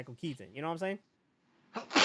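A single sharp sneeze bursts out close and loud after a stretch of quiet, following someone talking in a casual podcast conversation.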